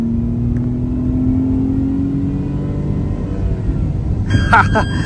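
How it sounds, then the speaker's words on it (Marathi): A 2025 Tata Tiago NRG CNG AMT engine revs with a steadily climbing mid-pitched drone through a downshift into second gear, loud and close inside the car, with a sharper burst near the end and a voice talking over it. "तुम्हाला परत आता मी दाखवतो रेव्ह करून. 3, 2, 1 डाऊन शिफ्ट, सेकंड गिअर"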